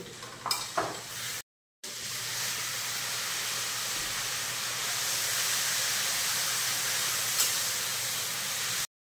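Ground turmeric, coriander-cumin powder, chili powder and salt added to hot oil in a home kitchen, giving a steady broad sizzle and hiss after a brief stir at the start, with a short gap in sound.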